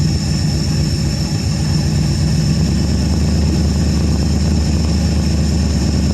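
A 1973 Ford Gran Torino Sport's 351 Cleveland V8, off the road for 30 years, runs on a test fuel supply with a steady loud low rumble and a constant high whine, close by and without talk.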